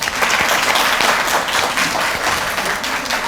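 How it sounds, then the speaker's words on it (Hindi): Loud, dense applause from a large audience at a Delhi Secretariat state award function, cheering the industries minister and deputy CM, sustained and close with a faint crowd murmur beneath. "एक बार जोरदार तालियां माननीय मिनिस्टर ऑफ इंडस्ट्रीज के लिए"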